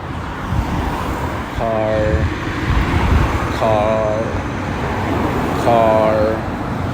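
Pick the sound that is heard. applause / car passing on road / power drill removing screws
car passing on road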